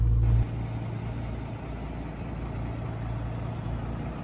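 Truck engine idling nearby, a low steady rumble at moderate level that continues evenly, with a louder hum briefly at the start.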